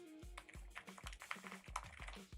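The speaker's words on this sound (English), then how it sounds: "Listen to the typing." Rapid typing on a high-quality computer keyboard, with a steady run of close, crisp key clicks and soft thumps in an uneven rhythm and no voices.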